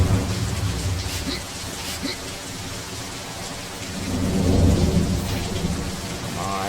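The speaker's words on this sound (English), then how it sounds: "if you're ever in a thunderstorm, make sure you're not on horseback" A video-game thunderstorm brings steady, heavy rain pattering on surfaces, with deep thunder rumbles that swell louder toward the end, and no talking.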